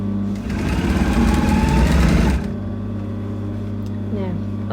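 A sewing machine stitches a cape seam at the shoulder, joining lining to fabric, with a fast steady whirring run for about two seconds that then stops, leaving a quieter hum.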